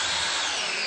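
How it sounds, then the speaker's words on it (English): A power drill drives galvanized screws into cement board during a tile floor installation, giving one loud, steady whir up close that holds through the whole short burst, and no one talks. "What we're doing now is installing our cement board using these galvanized screws."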